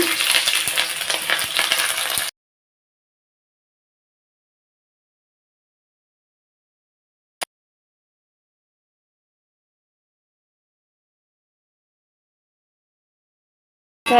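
Potatoes and green chilies hit hot oil in a wok with a loud, hissing sizzle for about two seconds. Then it cuts to near silence, broken only by a single faint click.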